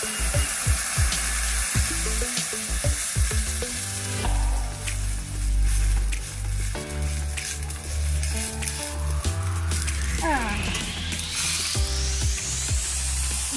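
Water poured into a hot pan on a stove, a loud continuous sizzle and spitting hiss that swells and bubbles for over ten seconds, close up, with clinks of utensils.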